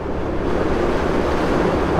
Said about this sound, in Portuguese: E olha só o vento batendo no matinho.